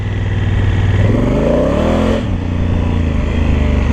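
An old Honda twin-cylinder dirt motorcycle engine runs loud and close, its throbbing idle rising as the throttle opens, holding a higher rev for a moment, then dropping back to a rumble.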